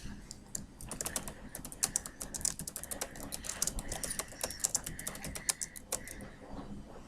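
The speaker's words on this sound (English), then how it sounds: "So I'm going to type that in." Rapid, uneven keystrokes on a computer keyboard, close and crisp, with short bursts and brief pauses running throughout.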